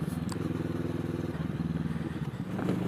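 A motorcycle engine, picked up by a small iPhone microphone mounted on a rider's helmet, gives a steady, loud, low rumble while riding, with wind buffeting over it.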